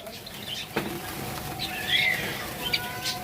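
Small white Java sparrows chirp faintly amid soft splashing and wing flutters as they bathe, with a few sharp tweets standing out.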